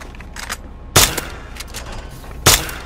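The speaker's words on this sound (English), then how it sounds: "It's only a BB gun, but it's not a toy." BB gun shots fired at targets in Fallout 3, two sharp, loud cracks about a second and a half apart, each with a brief tail, with fainter clicks and game sounds between them.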